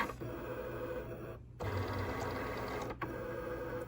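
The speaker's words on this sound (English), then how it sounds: "The blade Cricut is orientating itself" A Cricut cutting machine positions its blade on vinyl with a steady motor whir and faint clicking, broken by two short silent gaps, close and fairly quiet.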